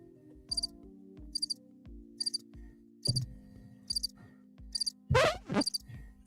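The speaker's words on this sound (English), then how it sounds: "You got crickets for when we're not even funny." Crickets chirping played as a soundboard sound effect, with regular rhythmic chirp bursts repeating about once per second over a low hum, plus a few brief louder knocks and rustles toward the end.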